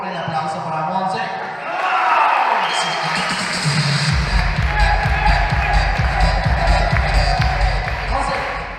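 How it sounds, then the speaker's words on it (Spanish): A crowd at a quinceañera party in a banquet hall applauds and cheers for Monse, loud and continuous, with whoops and heavy low thumping building under the clapping. "el aplauso para Monse"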